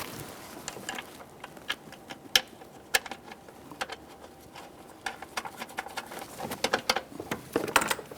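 Ratchet snugging 10mm mounting bolts at the throttle-body end of the intake plenum on a 2012-2018 Nissan Maxima 3.5L V6, heard as close, sparse irregular clicks and taps with no talking.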